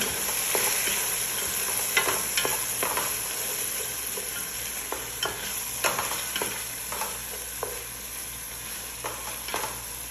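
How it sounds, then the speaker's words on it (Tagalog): A spoon stirs chopped tomato into an okra stew frying in a pan, giving repeated close scraping strokes in an irregular rhythm over a continuous soft sizzle, with no talking. "At i-add ko na rin itong tomato. Mix ko lang siya."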